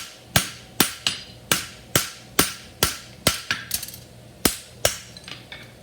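A hammer strikes hot steel on an anvil while forging, about a dozen sharp ringing blows at a steady rhythm, loud and close, with a brief cluster of lighter taps in the middle.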